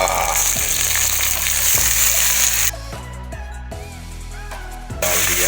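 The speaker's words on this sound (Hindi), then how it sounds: "प्याज, लहसुन, मिर्ची शुरू करते हैं। ये डाल दिया," Onion, garlic and chili sizzle loudly in a hot pan, a dense frying hiss broken by a few stirring knocks and a brief quieter stretch before the sizzle returns.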